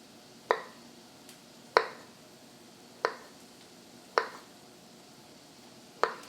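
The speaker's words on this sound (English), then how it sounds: "Got 1 more potato here I'm gonna slice." Knife cutting through a potato on a board, five crisp, evenly spaced thunks about a second apart, close and clean against a quiet kitchen background.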